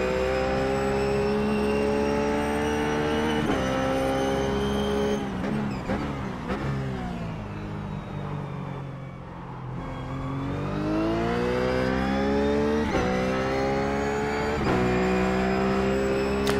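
A Ruf GT3 race car at Sonoma in iRacing holds full throttle, its engine a loud, continuous drone that rises and falls in pitch through shifts and corners.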